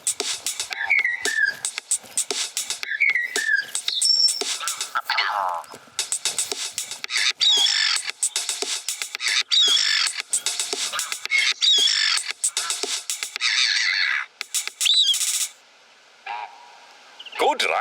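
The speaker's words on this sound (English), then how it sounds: "We recorded the call of some birds and made this." A short, playful tune built from recorded bird calls, squawks and whistles repeating in a choppy rhythm, loud and close, with brief gaps near the end.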